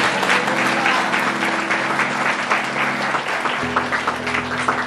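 A church congregation applauds loudly and continuously, dense steady clapping filling the room throughout with a faint tonal hum underneath.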